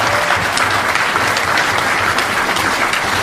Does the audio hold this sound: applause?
yes